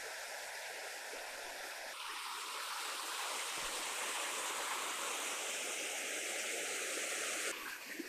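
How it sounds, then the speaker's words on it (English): A creek along a Blue Mountains bush track rushes steadily, a broad continuous wash of flowing water close by with no voices, holding level through the whole stretch. "Looks like we may have to cross the creek."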